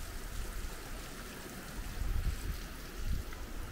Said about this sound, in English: And a bit of water coming down there.